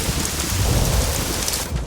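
Steady rain pours down with a low rumble of thunder rolling beneath it, loud and continuous with no voices.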